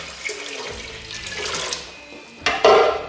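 Water pours from a jug into a pot for cooking pasta, a continuous splashing gurgle that rises in pitch as it fills, then a louder burst of splashing near the end, with no talking.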